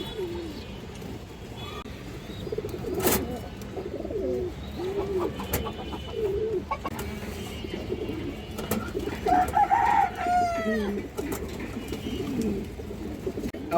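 Pigeons at a market stall with birds for sale, including white pigeons and high-flying Giribaz racing pigeons, cooing and calling repeatedly at moderate distance over a steady crowd murmur, with one brief sharp chirping burst near the end.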